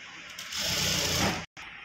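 A sewing machine running steadily, putting a double stitch of thread piping around a blouse neck; a continuous close mechanical whir with faint ratcheting, briefly cut off near the end and then resuming.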